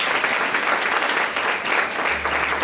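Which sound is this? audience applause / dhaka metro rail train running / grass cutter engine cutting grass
audience applause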